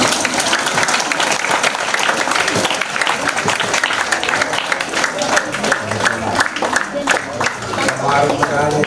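A congregation applauds at a thanksgiving mass, dense overlapping clapping that rolls steadily throughout, with voices mixed in beneath it.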